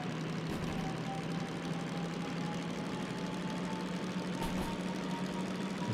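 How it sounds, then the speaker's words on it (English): Locomotive running light engine in the Derail Valley game, a continuous droning engine rumble with a faint steady tonal whine and a few soft knocks, held at an even loud level with no voices. "It sounds like a runaway train"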